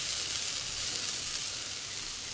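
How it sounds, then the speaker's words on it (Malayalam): Carrot thoran sautéing in a pan, a continuous close hissing sizzle with no pauses or talk. "തോരനൊപ്പം വഴണ്ടുകൊണ്ടിരിക്കുകയാണ്."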